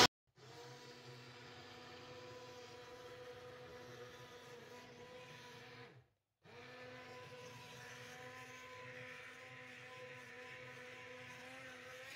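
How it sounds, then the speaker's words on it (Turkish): A blender blending lentil soup makes a loud, steady motor whir that runs continuously, cuts out briefly, then starts again with a slightly changed pitch, with no talking. "Şimdi bunu hemen blenderdan geçireceğim."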